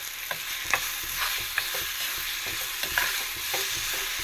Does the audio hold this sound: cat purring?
no